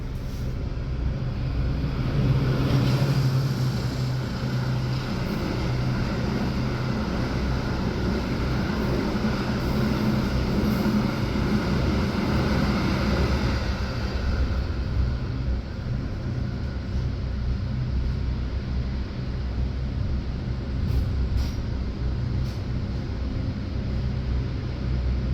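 Steady low rumble of an executive-class train pulling out of Kroya station, heard from inside the carriage as continuous, even ride noise with no talking.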